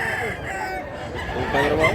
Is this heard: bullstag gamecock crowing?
yes